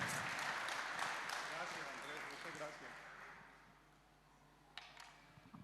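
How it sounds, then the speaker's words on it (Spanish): A church conference audience applauds a speaker, sustained clapping that gradually fades out, with voices underneath and a few late claps. "Y lo recibimos con un aplauso, con mucho cariño"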